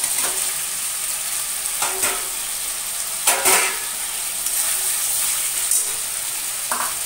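Pointed gourd and potato sizzle steadily in a spiced pan, a continuous bright hiss broken by several sharp scrapes and clatters of a spoon stirring at irregular intervals, close and fairly loud.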